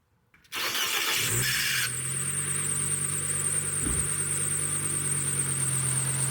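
A car that has sat unused for months, jump-started with an ASPERX 3000A battery pack, cranks briefly and catches, then settles into a steady idle with a faint whine, close and alone.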